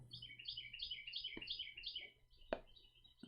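Small birds chirping outdoors in a quick repeated series of high tweets, fairly faint and distant, interrupted by a couple of sharp knocks, with no talk over them.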